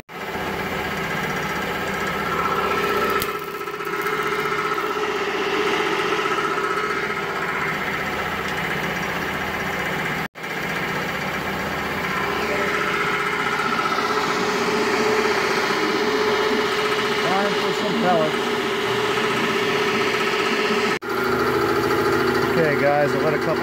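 An engine idles steadily on producer gas from a homemade woodgas generator, a constant droning hum with faint knocking through the whole stretch, close by. It is briefly cut twice by short dropouts, and no one speaks over it.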